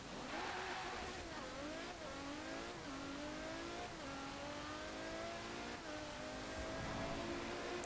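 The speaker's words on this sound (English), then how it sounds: "So yeah, an insane sounding engine, as you'd expect from a car that was more for racing." A 2018 Mercedes-AMG E 63 S engine in Forza Horizon 4 revs hard and loud throughout, pitch climbing through repeated gear changes as the car accelerates, with a steady continuous roar and no talk.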